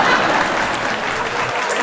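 Applause from an audience at a Hindi comedy poetry gathering, a steady dense wash of clapping lasting the whole moment with a murmur of voices mixed in.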